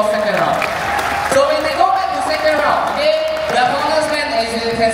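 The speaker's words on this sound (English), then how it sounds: "Give them a round of applause" Crowd applause at a Singapore wushu and Chinese culture festival after a bout, scattered clapping under a loud announcer's voice talking over a public address system.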